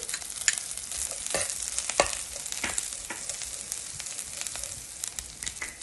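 Green chilies and curry leaves fry in oil in a pan for pappu kattu, making a close, bright sizzle with crackles and scraping stirs from a spoon, with no voices.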